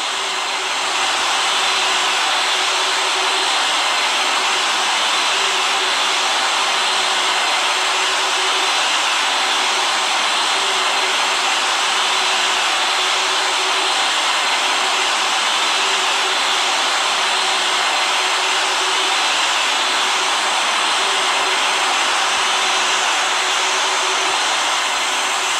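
Jet engines of an Airbus A340-300 spooling on a takeoff roll in a flight simulator, a loud steady roaring whine with a sustained tonal hum, unbroken from start to finish.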